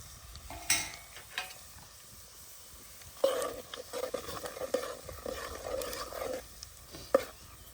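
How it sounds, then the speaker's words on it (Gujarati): Cumin, bay leaf, chillies and asafoetida hit hot oil on a village chulha and crackle and spit close by. A few spoon scrapes come first, then a sustained lively sizzle with sharp pops. "તેલ આવી ગયા પછી જીરું, તમાલપત્ર અને મરચાં ને હિંગ પણ સાથે નાખી દેવાની રહેશે."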